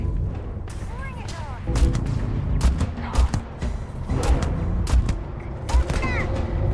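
Gunfire from a hand cannon in the Starfield video game, several sharp, loud shots in an uneven sequence with ringing metallic tails, mixed with thuds and in-game effects and someone speaking briefly over them.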